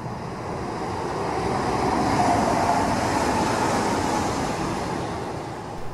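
A regional train passing near Wustermark outside Berlin, a continuous rushing, rumbling roar that swells to a peak midway and then slowly eases, close and steady with no voices.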